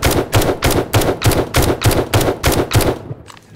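Rapid video-game weapon fire from 7 Days to Die, nine evenly spaced loud shots in steady rhythm over about three seconds, then stopping abruptly.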